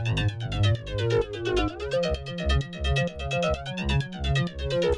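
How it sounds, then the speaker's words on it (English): Robot-voice synth bass patch built in Serum 2, a dense buzzing, vowel-like electronic tone pulsing in a steady rhythm of short repeated notes with a loud, full low end throughout. "the second sound that I've made sounds like this. It's like a robot voice"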